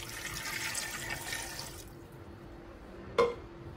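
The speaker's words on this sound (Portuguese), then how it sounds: "Agora a gente cobre com água" Water poured from above into a cooking pot holding large chunks of chicken, a big onion and salt, a steady broad rushing splash for nearly two seconds that then stops, followed by a single sharp clink near the end.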